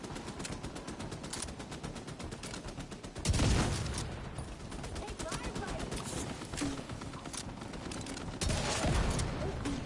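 Sustained automatic gunfire crackles in The Division 2, rapid shots running almost without pause through the whole stretch, with a couple of heavier bursts, under occasional speech.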